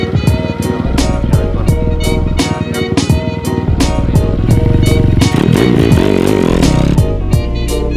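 New motard motorcycle engine running loud and close, a rough, rapid throbbing idle with steady pulsing and brief revs, almost alone with no clear talk.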